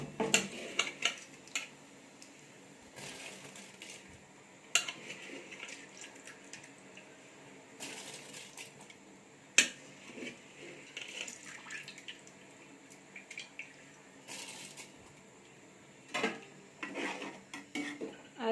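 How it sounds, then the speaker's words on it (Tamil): Rice is tipped into a pot of boiling mushroom biryani, with scattered clinks of utensils against the pot, soft stirring and a steady watery bubbling underneath, plus a few sharper metallic knocks. "இப்போ நான் எடுத்து வச்சுருக்க அரிசியை சேர்த்துக்கிறேன்."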